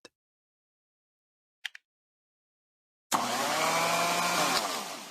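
Two brief clicks, then a loud, steady mechanical whirring of a power sander starts abruptly and runs for about two seconds before easing off, sanding a damaged spot on a police car in a video game.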